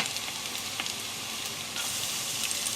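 Garlic hits hot ghee in a pan, producing a steady, loud hiss and crackle of sizzling that swells slightly near the end, with no voices.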